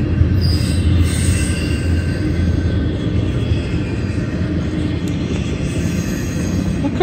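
A very long CSX freight train rumbles steadily past, its wheels squealing high and thin over the heavy, continuous roar of the cars.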